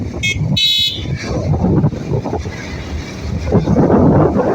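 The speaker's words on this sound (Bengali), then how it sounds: "দেখতে পাচ্ছেন বাইজান বাইক চালাচ্ছে সেই স্পিডে" Motorcycle speeding along a Dhaka highway, with strong wind rush and road roar throughout and a couple of short horn toots near the start.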